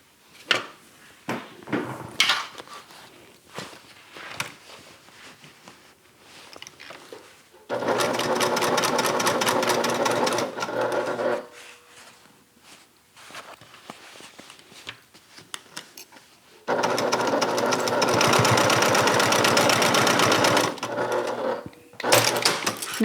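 A sewing machine stitches the boxed corner seam of a bag in two loud, fast, steady runs of several seconds each, after scattered handling clicks and rustles.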